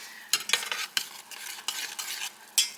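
Minute rice being stirred in a pot, a few scraping, swishing strokes of a utensil close up, quiet and alone with no talk.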